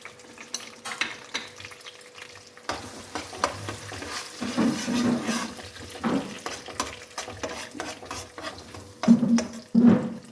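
Ground spice paste poured into hot oil in a pan for rui (rohu fish) korma, sizzling and frying in bursts with stirring and wet splashing noises, close and fairly loud, no talking.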